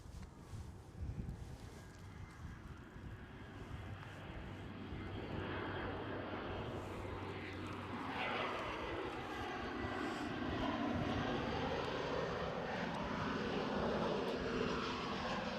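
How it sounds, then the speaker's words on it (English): An inbound airliner from Amsterdam approaches Edinburgh airport, its engine roar swelling from a distant rumble into a loud sustained whine with a shifting, Doppler-like sweep and some wind buffeting on the microphone. "Oh, Amsterdam inbound."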